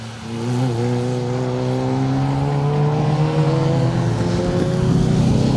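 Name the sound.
rally cars passing, Fiesta passed by Impreza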